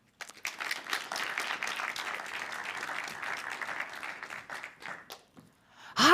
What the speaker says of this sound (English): Please give a big round of applause for Teunis van der Hofstad and Purvi Saka.